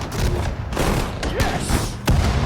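Loud battlefield gunfire and booms from Sudden Strike 4, a World War II strategy game set at Guadalcanal, with overlapping shots and one sharp crack near the end.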